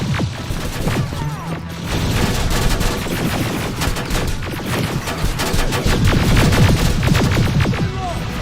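Sustained heavy gunfire fills a firefight in Terminator: Resistance, a dense, loud, continuous fusillade of overlapping shots with rumbling low end and no pauses.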